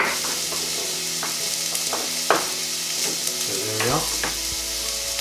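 Onions fry in a saucepan for a vegan cottage pie, a steady bright sizzle with occasional stirring knocks, and a person speaks briefly near the end.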